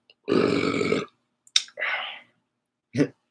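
A voice imitates a burp: one long, loud guttural belch followed by shorter throaty bursts and a click, alone with no other talk.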